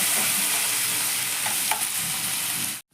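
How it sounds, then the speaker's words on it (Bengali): Chopped onions fry in hot oil in a pan, giving a steady, close sizzle with a few scraping stirs, alone and without talk before cutting off abruptly. "পেঁয়াজটাকে আমি এবার একটু লাল লাল করে ভেজে নেব।"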